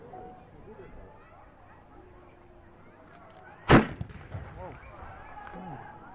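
A single loud cannon blast booms out at a medieval castle show, a sharp burst followed by a short rumbling echo and scattered crackle, after quiet background chatter and crowd murmur.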